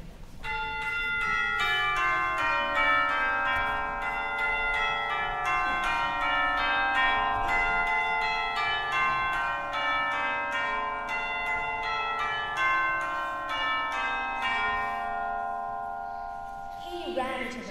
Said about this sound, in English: Hearing church bells ringing